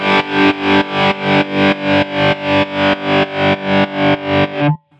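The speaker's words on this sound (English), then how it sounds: "It's interacting with the distortion, the harmonics from that, and giving a more dramatic effect" Distorted electric guitar chord through a tremolo placed after distortion on a Line 6 Helix, pulsing in rapid even throbs of about three per second before cutting off.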